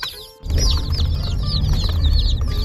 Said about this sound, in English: you've never gotten chicks in the mail before. And here they are.